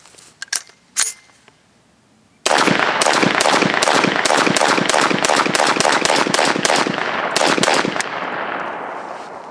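A pistol chambered in .450 SMC, loaded with 230-grain full metal jacket and 185-grain jacketed hollow point rounds, fires a few scattered shots and then a long rapid string of close, sharp reports with a short pause near the end.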